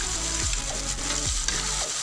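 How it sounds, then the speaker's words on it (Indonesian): Boiled tteokbokki rice cakes tumble into a pan of Indonesian-style peanut sauce, giving a steady close sizzle broken by a few soft scraping and stirring sounds. "Dan ini dia yang terakhir, kita masukin semua tapokinya yang tadi sudah kita rebus."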